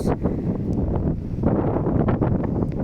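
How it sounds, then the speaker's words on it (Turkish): Steady wind buffeting the microphone outdoors at a lake, a constant low rumble with gusts rising and falling throughout. "Rüzgar da esiyor."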